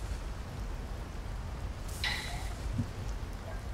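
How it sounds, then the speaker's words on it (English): Steady rain patters throughout, a dense broadband hiss of drops falling on a surface, with a brief brighter splash of sound near the middle; no voices are heard. "Not with the overcast weather and the rain."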